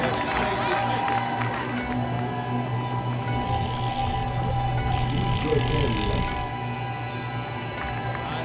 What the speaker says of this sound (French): Vous entendez les applaudissements de la foule